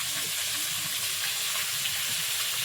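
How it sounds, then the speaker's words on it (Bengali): Fish frying in a pan during outdoor village cooking in the Sundarbans, a steady broadband sizzle that holds evenly throughout with no voices. "একদিকে মাছ ভাজা চলছে"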